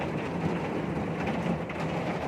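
Heavy rain pours down steadily around a loading truck, a dense unbroken hiss with a low rumbling undertone, close and constant without any talk.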